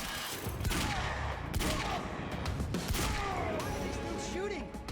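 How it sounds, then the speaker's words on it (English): Rapid bursts of gunfire from the video game Quantum Break, dense and continuous, with loud cracks and whizzing effects layered over one another. "Shooting."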